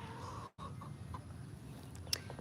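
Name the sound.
chicken clucking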